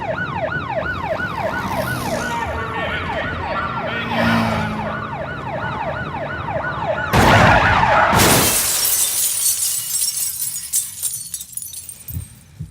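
In the audio game Blind Drive, a police siren wails in rapid repeating sweeps, loud and close, followed by a sudden burst of crashing, shattering glass and scattered debris that trails off.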